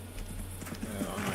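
Horse hooves clip-clop in a quick, even rhythm in a video game, a short close burst of footfalls with no speech.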